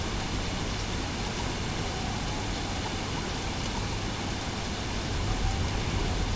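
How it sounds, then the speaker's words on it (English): Heavy rain in the video game Don't Starve pours as a dense, unbroken hiss at a constant level throughout, with nothing else standing out. "And this is the worst rain possible"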